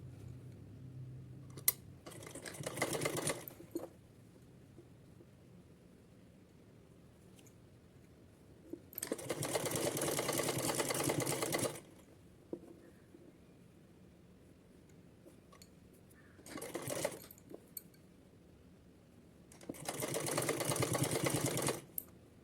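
A sewing machine stitching along a folded fabric hem in bursts, with short whirring runs separated by quiet pauses and small clicks from handling the cloth, with no voices.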